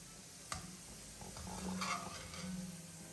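Fried chili crisp ingredients go into a pan of shallots in hot oil, producing a soft steady sizzle with a sharp clink near the start and a few light stirring scrapes, close but fairly quiet.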